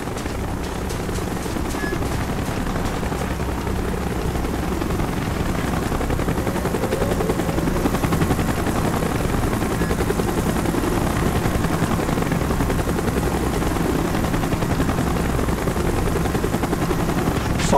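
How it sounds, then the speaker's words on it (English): A helicopter in the video game Call of Duty Black Ops thunders in with a dense, steady rotor roar, loud and continuous throughout, with a faint rattle of gunfire mixed underneath. "Chopper's inbound. Move it."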